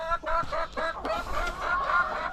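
Dekalb Brown hens cluck close by in a steady run of short, overlapping calls, loud and without any voices.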